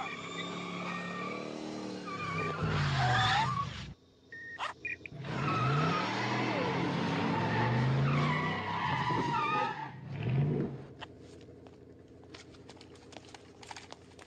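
A car skidding with long tire squeals, loud and close, in two sustained bursts with sliding pitch, separated by a brief pause and followed by fainter clatter.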